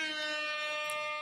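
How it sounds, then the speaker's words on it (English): Loud air horn sound effect, a sustained harmonic-rich blast lasting just over a second and cutting off abruptly at the end, heard alone with no voices. "It's the Jamaican in me that loves a good air horn."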